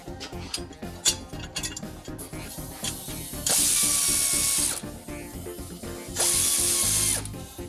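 Hand ratchet tightening the lower brake caliper bracket bolts on a 1973 Ford Mustang, with quick dense clicking strokes up close, interrupted by two louder, longer bursts of rapid ratcheting.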